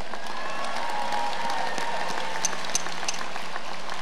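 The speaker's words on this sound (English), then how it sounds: "Let's give them a round of applause." Commencement ceremony audience applauding in a large hall, a soft, distant, steady wash of clapping with a few sharper claps standing out near the end.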